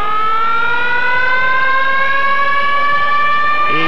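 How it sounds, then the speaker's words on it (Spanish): A loud alarm siren blares in the stadium during the Puebla vs Atlante football match of the 1998 Verano season. Its steady, wailing tone climbs slowly in pitch and sounds alone, without commentary over it. "Y la sirena de alarma de luces rojas."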